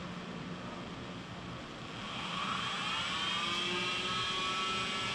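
PM728VT milling machine spindle spinning up toward 3000 RPM, a fairly quiet whir that swells after a couple of seconds into a rising, steady whine, with no talk.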